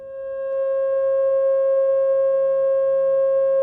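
Pure 540 Hz sine tone fading in over the first half second, then holding steady and loud on its own with no other sound.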